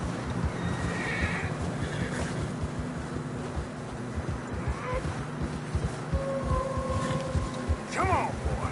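Horses in Red Dead Redemption 2 whinny and neigh over steady hoof clops on fresh snow, with a game soundtrack and ambient noise underneath and a bright whinny near the end.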